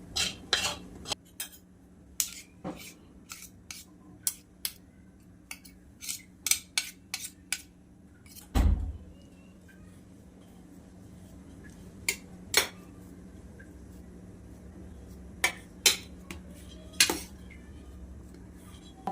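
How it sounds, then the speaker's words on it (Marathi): A sticky sweet potato barfi mixture is scraped from a pan onto a plate, with a run of sharp metal clinks and taps from a spoon against the cookware, loud and close, then a quieter stretch with sparser knocks. "आता ताटात काढून घेऊयात आपण"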